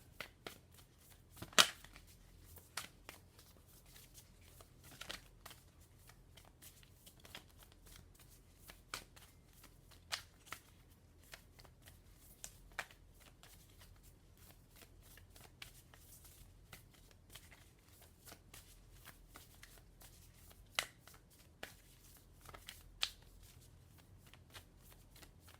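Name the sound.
Minty Tarot cards being shuffled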